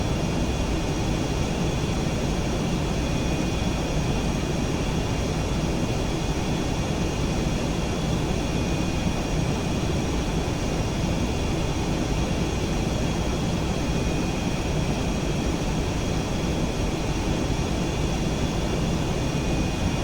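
Steady, even jet engine hum and whine from an aircraft taxiing in a flight simulator game, a constant drone with thin tonal lines and no talking over it.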